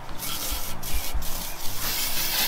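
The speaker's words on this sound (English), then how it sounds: "spray one half of it with gunk and the other half with oven cleaner" Oven cleaner sprays onto a motor in close, rough hissing bursts, several short sprays in quick succession over a low background rumble, with no voices.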